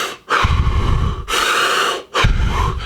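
Deep rhythmic breaths of the Wim Hof method taken in a meditation pose on the ground: loud, close inhale-exhale cycles, three strong surges with brief pauses between them, no talking.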